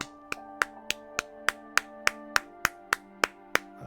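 One person claps their hands in a steady, evenly spaced run of about twelve sharp claps, close and alone over faint background hum.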